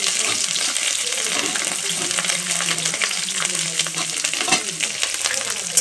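Grated ginger sizzles in a hot pan, a close, continuous crackling hiss with occasional louder spits and scraping stirs throughout.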